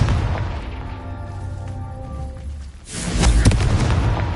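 In Hogwarts Legacy, a Confringo fire spell erupts with a loud, booming blast partway through, following a quieter stretch of tonal magical hum.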